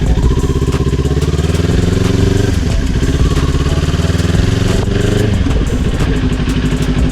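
A motorcycle weaving around a course of cones, its engine droning loudly and steadily close by, with pitch dips and rises as the rider shifts gears; no talking.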